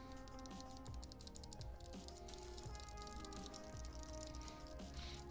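Rapid, soft clacking of keys on a Tofu60 mechanical keyboard, a continuous close typing patter with a muted, slightly squishy character, fairly quiet.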